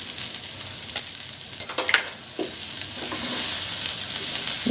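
A corn filling for cheese corn rolls cooks in a pan, with a close hiss and bubbling sizzle and a few brisk stirring scrapes early, settling into an even simmer.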